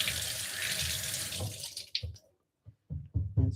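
Tap water runs loudly into a sink while a cucumber is rinsed under it, then the flow stops, leaving a few short knocks and splashes.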